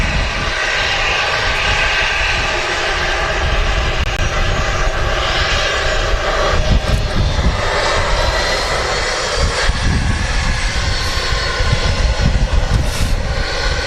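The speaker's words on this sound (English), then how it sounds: "It's a Lufthansa A319 in the newer scheme." Lufthansa Airbus A319 jet at Manchester Airport, its engines producing a loud, steady broadband roar that holds strong and continuous throughout, with no talk over it.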